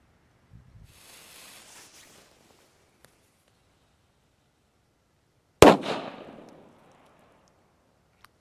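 A single sharp P1 firecracker bang, loud and close, with a crackling tail that fades over about a second, after some faint hissing earlier.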